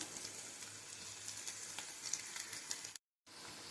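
Pattanam-style pakoda frying in hot oil gives a steady, dense sizzle with crackling, close and continuous, broken by a brief silence near the end.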